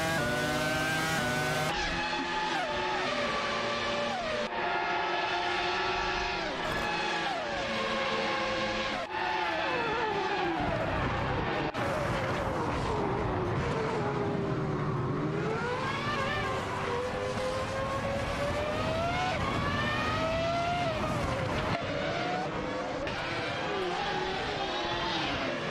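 Race cars in a racing video game during career mode: engines continuously revving and shifting pitch as cars accelerate and pass, with overlapping motor whines that rise and fall, loud and steady throughout without talk.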